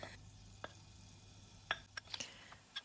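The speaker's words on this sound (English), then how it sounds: "Fry some onions and minced garlics." Onions and minced garlic fry in a deep pot with a faint, steady sizzle, broken by a few soft pops and ticks scattered across the short stretch.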